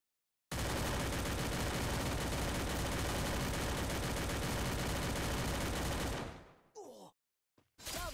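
Gunfire in a squad-based shooter video game: a loud, continuous roar of dense rapid shots lasting several seconds, then cutting off abruptly into brief fragments of sound.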